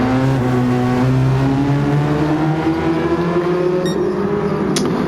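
A race car engine in Gran Turismo 7 (Mini VGT) drifting through a final turn: a loud, sustained engine drone with shifting pitch, close and continuous, ending with a brief tire squeal.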